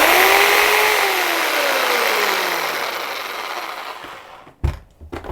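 A corded reciprocating saw runs loud and close with a steady high motor whine, its pitch gradually sinking as it winds down and stops abruptly near the end, followed by a few brief handling knocks.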